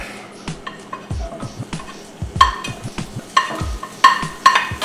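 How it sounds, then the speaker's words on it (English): Ginger, onion and garlic sauté in oil over low heat while a utensil stirs them, giving soft sizzling with repeated scraping strokes and low knocks against the pan, close and moderately loud, no voices. "I'm going to saute the ginger, the onion, and the garlic."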